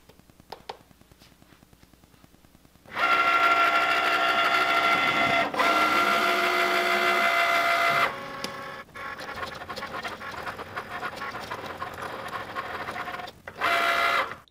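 A Cricut Maker cutting machine slices ColorSpark adhesive vinyl, with a steady loud mechanical whir and buzzing of the carriage that starts after a quiet moment, drops to a lower hum partway through, then surges briefly again near the end.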